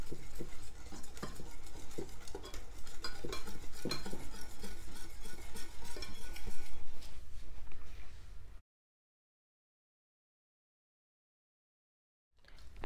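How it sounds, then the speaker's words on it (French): A utensil steadily stirs cake batter for an olive, bacon and goat cheese cake in a mixing bowl, with continuous scraping and soft clinks for several seconds before it stops abruptly into silence. "je mélange"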